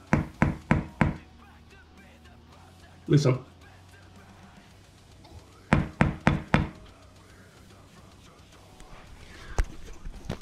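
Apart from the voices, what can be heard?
Tama Speed Cobra direct drive drum pedal being played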